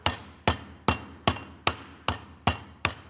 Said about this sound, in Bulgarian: Се ползва чука с един пликче. Така че се чука